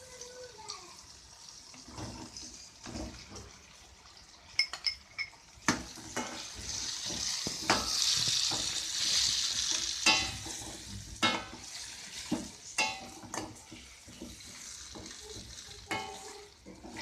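Mushrooms tossed into a pan of softened tomatoes fry and hiss, with repeated clattering stirs and scrapes, a brief splash of water, and the sizzle swelling louder midway, close by with no voices.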